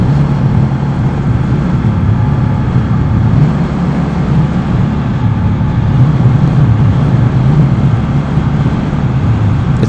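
A 2015 Indian Scout motorcycle engine hums steadily while riding, a continuous low rumble mixed with road and wind noise and holding an even level throughout.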